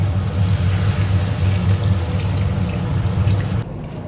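Water pours into a taro and potato curry in a cooking pot, a steady close rushing splash lasting a few seconds before cutting off.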